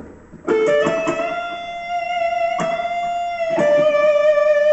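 Clean electric guitar plays the opening phrase of a solo, with sustained bent notes and a few picked attacks ringing alone and fairly loud.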